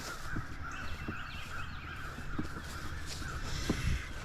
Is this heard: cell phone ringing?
no